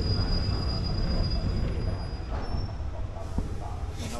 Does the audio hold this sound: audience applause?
no